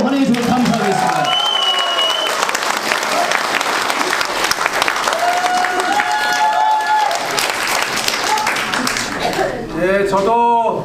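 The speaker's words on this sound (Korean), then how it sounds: "큰 박수로 환영해 주시면 감사하겠습니다." A crowd at a political campaign gathering for a National Assembly candidate claps loudly to welcome him, dense applause with a few scattered cheers and voices mixed in, dropping briefly near the end before swelling again.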